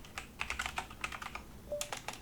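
Someone types a command on a computer keyboard, a quick run of light key clicks in bursts, close and quiet, with no talking.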